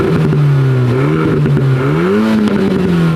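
Engine of a Renault Mégane revving nearby, its pitch rising and falling in a few swells, loud and steady over light background clatter.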